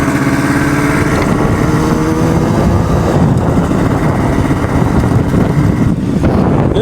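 A restored motorcycle, revived after sitting for 52 years, cruises on a test ride, its engine running steadily and loud throughout with rising and falling rev tones and road noise, no talking.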